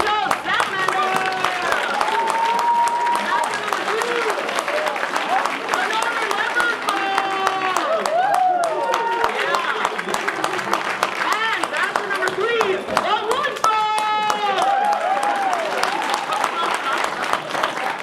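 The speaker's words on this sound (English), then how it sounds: "Have a big round of applause for bachelor number one" A cartoon studio audience claps and cheers under lively tonal voices and music, greeting a long-toed salamander introduced as bachelor number one in a dating-game spoof.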